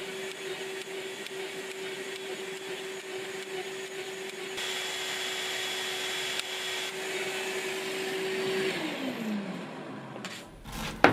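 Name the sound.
Festool router with Holy Rail cutting shelf pin holes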